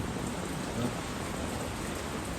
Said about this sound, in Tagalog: malakas ang ulan sa amin